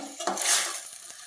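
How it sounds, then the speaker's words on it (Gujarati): Grated bottle gourd stirred in ghee for halwa, a brief scraping swish of a spoon across the pan with a faint sizzle underneath, close and moderately loud. "આપણે 5 થી 7 મિનિટ આમાં કન્ટિન્યુ હલાવતા રહેવું."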